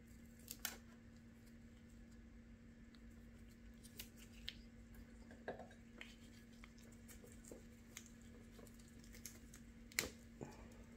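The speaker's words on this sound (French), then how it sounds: "J'en ai des petites, mais je vais les faire au ciseau." Small tree roots trimmed with scissors during a root pruning before summer, giving faint, scattered snips and clicks at irregular intervals against a steady low hum, with no talking.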